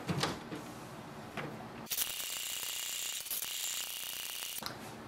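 A Canon Pixma G6060 printer runs a two-sided print job, giving off whirring gear and ratcheting mechanism noises that shift into a louder, steadier feed sound partway through before easing off.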